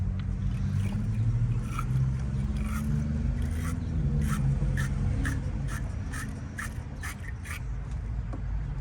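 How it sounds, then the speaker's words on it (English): A terminal post cleaner scrubs and twists against the car battery terminal posts of a 1999 Jeep Wrangler TJ, giving close, steady, repeated scraping strokes with short gritty rasps. "have the terminal post cleaner, and we are going to be scuffing our little terminal posts"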